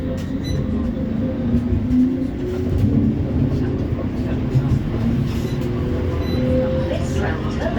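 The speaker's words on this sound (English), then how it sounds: "This tram is about to depart." A West Midlands Metro tram at Kenrick Park, a loud steady low rumble and hum of the vehicle running with mechanical rattles throughout, no clear speech.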